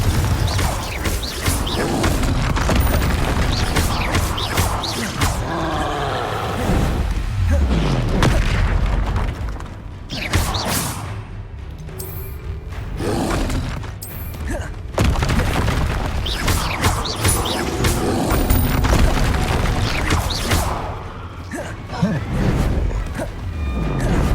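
Confringo explosive spell blasts in Hogwarts Legacy, loud booming bursts repeated through the clip amid other spell effects and a continuous dense game soundscape.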